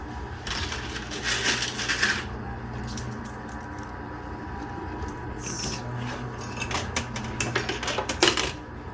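Quarters and silver coins clatter and slide in an arcade coin pusher machine, a dense, continuous metallic jingle with sharper bursts of dropping coins, loud and close throughout.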